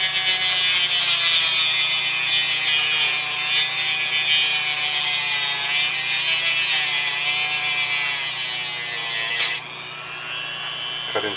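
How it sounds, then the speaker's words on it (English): A Dremel rotary tool with a diamond blade cuts through a Hubsan H107D quadcopter frame arm, giving a steady high-pitched whine and grinding rasp that runs for about ten seconds before easing off, close-up. "using a diamond blade on a Dremel."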